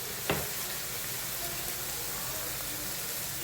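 Ground spices such as turmeric, red chili powder and coriander-cumin powder sizzle in hot oil, giving a soft, steady frying hiss throughout with a faint tap near the start.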